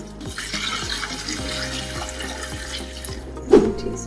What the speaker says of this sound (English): Add in 24 cups of water.